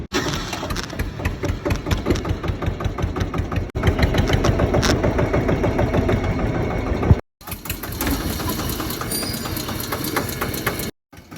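A tractor engine turns over and runs with a steady mechanical chugging, loud and close, broken by brief dropouts near the end; no one speaks over it.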